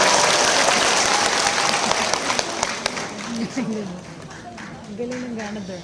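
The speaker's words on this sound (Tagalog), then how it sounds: "Ang hina ng palakpak." Audience applause at a health product presentation, dense clapping that starts loud and thins out, then fades under a speaker's voice resuming.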